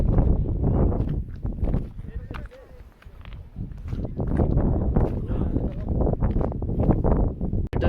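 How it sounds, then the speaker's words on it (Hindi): Gusty wind buffets the microphone in low, rumbling surges at Kharpocho Fort in Skardu, Baltistan, while a person keeps talking through it. "हवा चल रही है यार, ये मुझे ना ले जाए साथ।"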